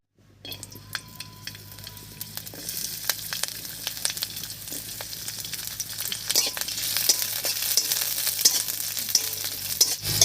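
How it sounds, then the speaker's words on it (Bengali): Green chilies, sliced garlic and ginger frying in mustard oil with whole cumin, a bright crackling sizzle that grows louder and busier, punctuated by spatula scrapes and clicks against the pan. "কাঁচা লঙ্কা আদা আর রসুন দিয়ে একটু নাড়িয়ে নিয়েছি"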